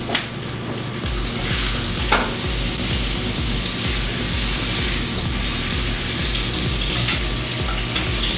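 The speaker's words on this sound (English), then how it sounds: "Move the steaks in the pan to promote even caramelization." Steaks searing loudly in a pan with butter and sprigs of fresh thyme, a dense, continuous sizzle close by with occasional scraping as the meat is moved around, no voices.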